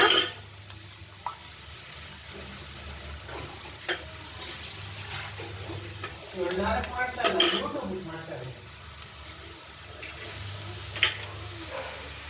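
Eggs being stirred into a pan of cooked carrots and onion for a home-style palya, with a spatula scraping and clinking against the pan over a soft frying sizzle, plus a few sharper metallic knocks.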